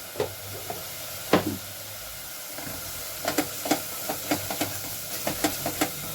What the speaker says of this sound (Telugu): పసుపు వేసుకొని వేయించుకోవాలి